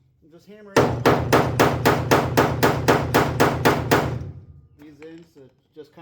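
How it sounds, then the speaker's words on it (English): Steady metal hammering on a car fender being rolled: about a dozen loud, evenly spaced ringing blows over three seconds, then a brief voice after the strikes stop. "I'm just hammering"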